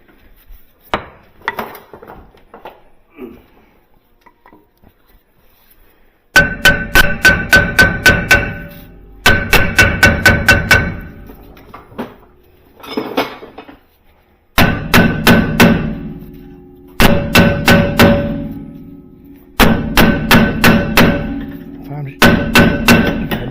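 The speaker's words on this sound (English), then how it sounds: "Put it on the device and hit it with a damn hammer." Steel hammer blows knock a broken bolt out of a socket during drum brake work, loud metallic strikes landing in rapid bursts of several hits separated by short pauses, with faint talk early on.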